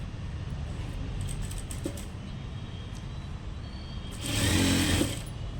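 Sewing machine stitching the border of a boat-neck blouse, a steady close mechanical whir running throughout, swelling louder near the end.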